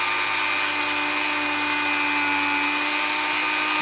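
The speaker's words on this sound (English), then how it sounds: "because the Dremel's going so fast, it actually polishes it really well" A Dremel rotary tool with a wire brush polishes a Hornby Triang DMU/EMU power bogie motor part, giving a loud, steady high-pitched whine held at constant speed throughout, close to the microphone.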